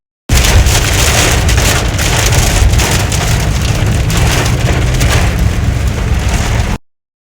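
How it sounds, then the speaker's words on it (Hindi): Heavy rain lashes a car, with wind and light hail pattering on the bodywork, a loud, dense, continuous downpour filling the whole stretch with no voices. "बारिश तेज़ से तेज़ हो हुई जा रही थी, साथ इतनी आंधी तूफ़ान और साथ ही वो हल्के हल्के से ओले शुरू हो गए"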